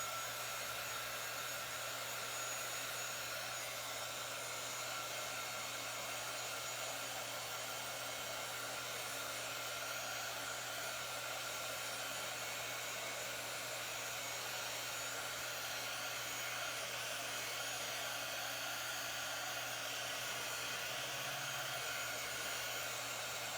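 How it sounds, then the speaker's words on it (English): A hair dryer or heat gun blows steadily while drying a transfer, a continuous close whooshing roar with a low hum that holds at an even level throughout, with no talking. "Nothing like the sound of a hair dryer or heat gun."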